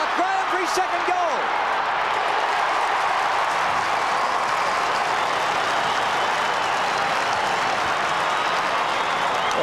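Hawthorn supporters at a 1997 Australian football match against St Kilda applauding and cheering a goal, a steady roar of distant crowd noise throughout, with brief commentary at the start.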